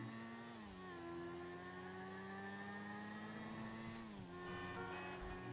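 Bugatti Adder supercar in GTA 5 pulling away, a steady droning engine tone that rises in pitch and dips around a gear change, loud and continuous with no talk.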